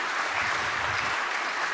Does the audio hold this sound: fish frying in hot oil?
no